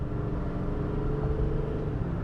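A 2021 Chevrolet Silverado 2500 HD LTZ truck accelerating hard on the road, heard as a steady, loud low engine rumble with a continuous drone and no voices.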